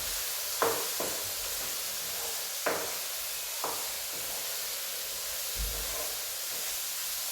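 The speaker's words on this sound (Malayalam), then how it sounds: "സോയാബീൻ ഇട്ട് കൊടുക്കാം. ഫുള്ള് ഞാൻ ഇട്ട് കൊടുക്കാം. നന്നായിട്ട് ഇളക്കി കൊടുക്കാം." Soybeans tossed into a hot pan over a high flame and stirred, giving a steady close hiss of sizzling with a few sharp scraping clicks of the spoon against the pan, no voices.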